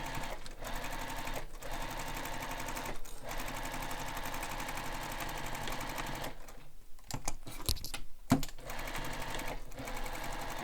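A sewing machine runs steadily around the sides of a fabric messenger bag, a close continuous whirr with a brief stop and a few clicks near the end.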